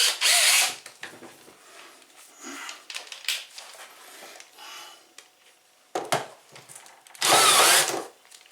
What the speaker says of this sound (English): That's a big drill.